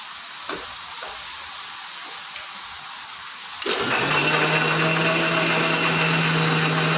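Blender grinding tomato masala for an egg curry: quiet room with a few light knocks, then the motor starts abruptly and whirs loudly and steadily with a hissing, churning tone until the end.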